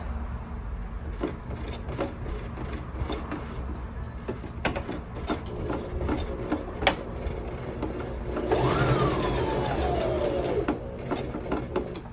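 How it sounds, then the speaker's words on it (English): A sewing machine runs stitching around the seam of pajama fabric, a steady close mechanical whir with rapid needle clatter, slightly louder and faster near the end, with no talking. "So let me just sew around here one time here"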